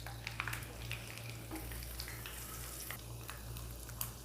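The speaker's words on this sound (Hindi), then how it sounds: "इसको फ्राई करेंगे 2 मिनट तक" Pistachios, almonds and coconut frying in ghee give off a steady, faint sizzle with a soft crackle throughout. A low constant hum runs underneath, with occasional light stirring or scraping sounds in the pan.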